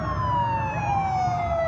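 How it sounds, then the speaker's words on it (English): Sirens from a police motorcade wail loudly and continuously, their pitch sliding slowly downward as the vehicles pass close by. "She gets sirens."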